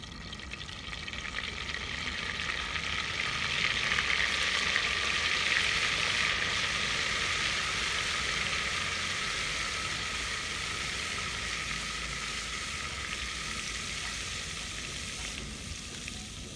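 Four big spoons of oil with butter sizzling in a pan for pav bhaji, a steady bright frying hiss that swells slightly and holds throughout, close up with no talk.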